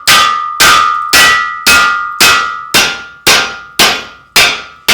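Nine loud, ringing hammer blows land on a steel tent stake clamped against a vise edge in a blacksmith's shop, struck at a steady rhythm, each metallic clang decaying before the next, with no talking.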